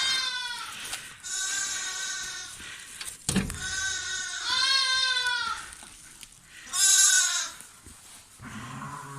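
Hungry lambs on a farm bleat repeatedly and loudly right near the door before bottle feeding, several overlapping cries with brief pauses between them.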